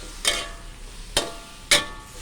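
Chayote being stir-fried in a pan, heard as three separate scraping stirs about half a second to a second apart over a soft, steady sizzle, close by with no talk.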